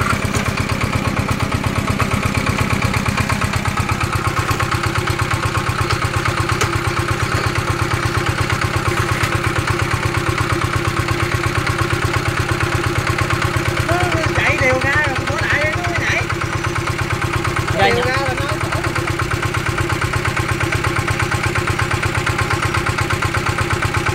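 A Zanma NS 110 motorcycle engine runs steadily at a constant rough, buzzing idle throughout, loud and close, with someone talking briefly over it near the middle.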